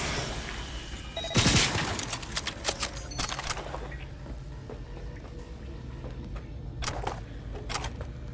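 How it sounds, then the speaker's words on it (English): Gunfire in a video game: a loud burst of shots at the start, followed by a steady noisy battle din with scattered further shots and impacts. "Taking fire!"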